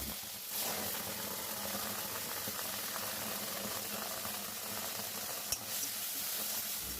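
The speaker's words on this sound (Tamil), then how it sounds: "இப்போ இந்த தக்காளி விழுதை இதில் சேர்த்து நல்லா வதக்கிடுங்க." Tomato paste sizzles and hisses steadily in a pan while frying for Chettinad pakkoda kulambu, with a sharp clink near the end.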